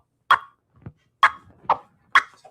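A slow level-one closed fader crab scratch by a DJ, heard as four short, sharp scratch bursts spaced apart in a loose rhythm, each cut off abruptly, with faint low blips between them.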